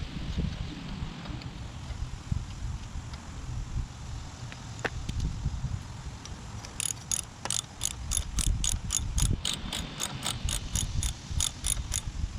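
Ratchet wrench tightening rocker arm adjusters on a Kohler Courage cylinder head, a rapid run of close, crisp clicks in the second half over a low background rumble.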